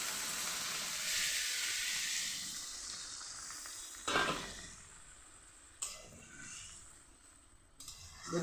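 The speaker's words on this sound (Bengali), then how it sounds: "এখন জল দিয়ে দিচ্ছি" Water hits hot oil in a pan of fish roe curry with potato and eggplant, setting off a loud steady sizzling hiss that fades slowly, broken by a few sharper spatters and bursts.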